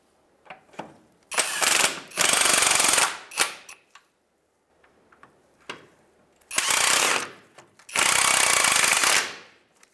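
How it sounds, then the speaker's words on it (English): Impact or ratchet tool tightening the 17 mm engine cradle bolts on a 2003-2011 Honda Element, heard as loud, close bursts of rapid mechanical rattling with short clicks and quiet gaps between them. "Tighten these two cradle bolts."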